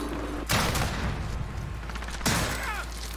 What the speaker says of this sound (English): Pre-firing the shotgun.